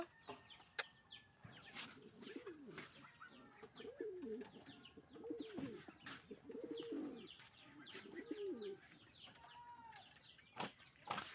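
Pigeons coo softly in repeated low warbling phrases, with scattered clucks, wing flutters and chirps around them in a quiet setting.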